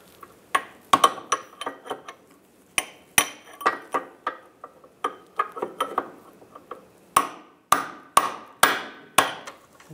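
Sharp metallic hammer taps on a car part while loosening a front driver's side CV axle on a 1998-2010 Volkswagen Beetle, roughly twenty close strikes in irregular bursts with brief ringing decay, no talking.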